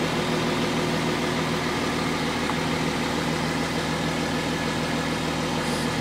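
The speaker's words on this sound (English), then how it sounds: "the car is on idle, it's on park stand" An Audi Q7 engine idles in park with a steady, even hum and a low mechanical drone that holds unchanged throughout, close and moderately loud, with no talking.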